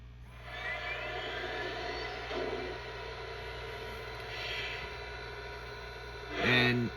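A Lionel Legacy Blue Comet 10-wheeler model train engine hums and rumbles steadily for several seconds, ending with a short, loud horn-like whistle blast near the close.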